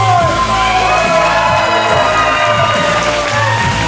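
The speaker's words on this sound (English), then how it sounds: "Good crowd reaction." Wrestling crowd at an indoor club show cheering, whooping and yelling loudly and continuously, with rhythmic low thumps pulsing underneath.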